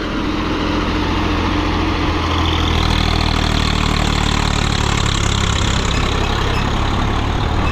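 A tractor engine runs loudly and steadily up close in medium fourth gear at about 1650 RPM, a thick continuous rumble that rises slightly midway and holds.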